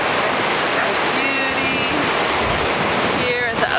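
Steady, loud ocean surf washing ashore at the beach, a continuous broadband rush with gusty wind noise on the microphone and faint tonal traces near the end.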